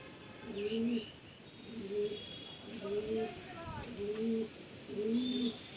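Pigeon at a loft cooing close by in repeated low throaty phrases, about five bouts spaced roughly a second apart, with faint chirps of other birds around it.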